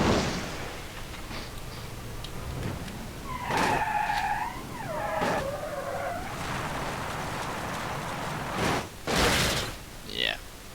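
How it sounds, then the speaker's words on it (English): A car in the BeamNG.drive driving game skids with squealing tires, then crashes with thuds, heard at moderate level under background noise. "let's see what happens when we intentionally try to crash this thing"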